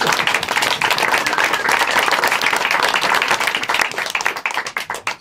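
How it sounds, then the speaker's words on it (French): A theatre audience at the Théâtre du Forestel bursts into dense, loud applause. The clapping holds steady for several seconds, then thins out into scattered claps near the end. "Vous pouvez l'applaudir, mesdames et messieurs."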